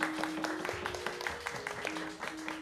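A crowd at a Javanese wayang shadow-puppet night performance claps in a quick, scattered burst of applause, fairly quiet and distant, with a sustained musical tone humming beneath it.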